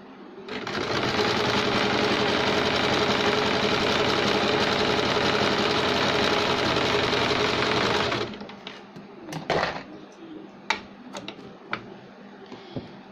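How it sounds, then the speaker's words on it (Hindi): A sewing machine runs steadily while stitching a straight seam on a sleeve, a loud continuous whir for about eight seconds, then stops, leaving a few faint clicks and knocks. "यहाँ से सीधी सिलाई लगाएंगे"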